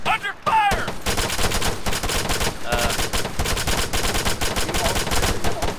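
Sustained automatic gunfire in the military shooter Arma 3, a dense, loud, rapid volley of rifle and machine-gun bursts lasting the whole stretch.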